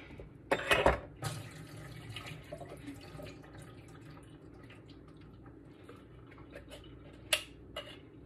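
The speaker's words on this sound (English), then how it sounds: "And I'm gonna drain the water off of it." Water drained off a can of sweet potatoes into a sink: a loud splashing gush at first, then a quieter continuous trickle, with a light clink near the end.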